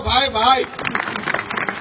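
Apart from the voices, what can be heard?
audience applause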